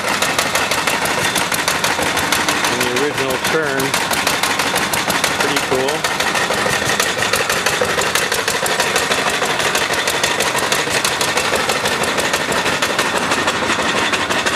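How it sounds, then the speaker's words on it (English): An old hit and miss engine running an ice cream maker at a tractor show chugs in a rapid, steady rhythm, loud and continuous, while someone speaks briefly over it. "We're making ice cream with an old hit and miss engine."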